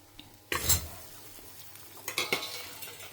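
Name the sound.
turmeric and asafoetida frying in oil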